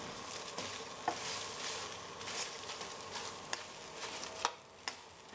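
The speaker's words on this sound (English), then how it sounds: "Add your potatoes back in, mix it around." Potatoes for Chinese cumin potatoes are stirred in a hot pan, a soft continuous sizzle with a few sharp scraping clicks of the utensil against the pan, close and moderately quiet.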